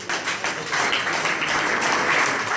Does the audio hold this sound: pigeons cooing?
no